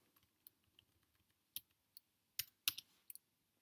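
Computer keyboard typing, sparse and irregular keystrokes, some light ticks and several sharper clicks in quick clusters, close and clear against a quiet background with no talking.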